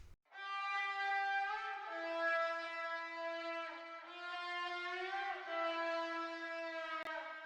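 Solo synthesizer part from an electronic pop track: a bright, buzzy sustained tone with a dense stack of harmonics, holding long notes that glide slightly in pitch, continuous and steady with no voices.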